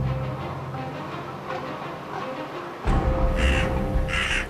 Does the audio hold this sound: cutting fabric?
no